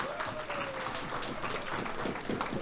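A crowd at a Sufi night event claps for two community members, a continuous mid-distance spread of applause with a faint sustained tone running beneath it.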